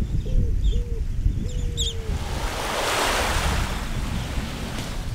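Surf washing steadily on a tropical beach, with a few seabird cries, pelicans and terns among them, calling near the start over wind noise before the waves swell louder and fill the rest.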